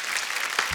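Studio audience at a comedy talk show applauds steadily, a dense wash of clapping filling the short moment with no voices over it.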